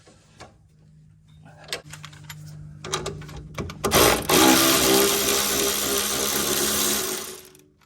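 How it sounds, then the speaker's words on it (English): A 14mm nut being loosened from a suspension link pin with a ratchet: scattered clicks and ticks at first, then a loud continuous whirring buzz from about the midpoint, likely a power ratchet running steadily close by. "Let's go ahead and remove that 14mm nut from the link pin."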